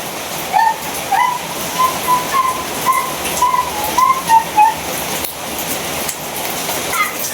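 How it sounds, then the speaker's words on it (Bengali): Heavy morning rain pours down in a dense, steady hiss that fills the whole stretch evenly, with faint intermittent whistling tones in the background. "বৃষ্টি নামছে বৃষ্টি শুরু হয়েছে"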